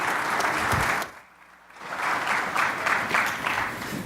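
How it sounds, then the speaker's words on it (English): An audience at a technology keynote claps loudly, the applause dipping briefly into near quiet before swelling again into a full, steady round. "let's clap for Michael"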